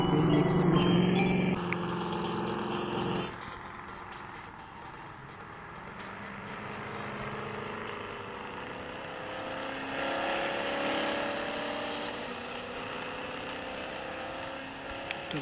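A car driven in a video game gives a continuous engine and road drone that rises and falls gently, with no talking.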